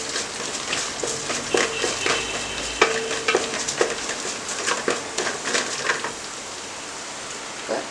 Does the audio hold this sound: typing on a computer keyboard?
no